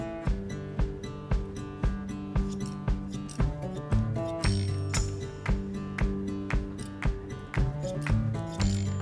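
Crisp, rhythmic snips of hair-cutting scissors on a man's hair at close range, short metallic cuts repeating roughly every half second with a slight grinding rasp in each closure.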